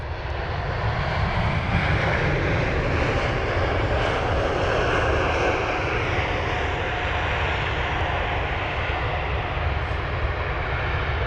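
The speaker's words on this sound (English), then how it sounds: "There's a 320 Neo just touching down." Airbus A320neo touching down at London Heathrow, a steady, fairly distant roar of engine noise with a faint whine running unbroken throughout, no voices.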